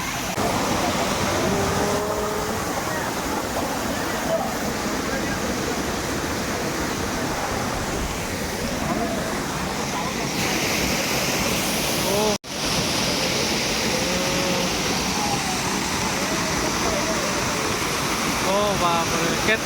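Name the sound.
strong rushing water of a waterfall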